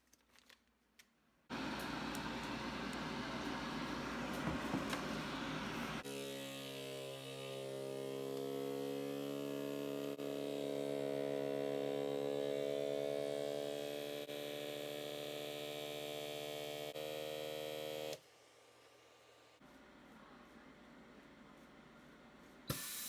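A vacuum sealer pumps the air out of a food bag and seals it: a loud, steady motor drone that starts abruptly, deepens into a strong humming tone partway through, then cuts off after about sixteen seconds.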